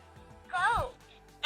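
A voice imitates a goat bleating: a single short, wavering bleat, close and clear, in a quiet setting with a faint click afterward.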